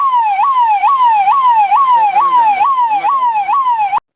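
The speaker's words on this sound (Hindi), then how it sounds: "ये कुछ सायरन की आवाज़ें हम आपको दिखा रहे थे" A police or ambulance siren wails loud and close in a fast repeating rising-and-falling pattern, about nine cycles, then cuts off abruptly.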